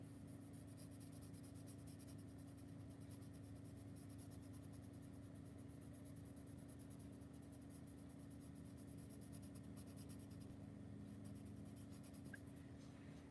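Colored pencil, turquoise and purple, very lightly coloring a background on paper, giving a faint, steady, continuous scratchy hiss with no talking.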